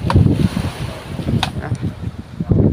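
Strong wind rumbles steadily against the microphone on a fishing boat at sea as waves build, a continuous low blustery roar with occasional splashes and creaks.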